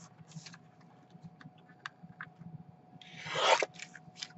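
Scissors trim paper for a magazine journal page: scattered light clicks and rustles, then a short louder crisp cutting rasp near the end, all close and quiet with no talk.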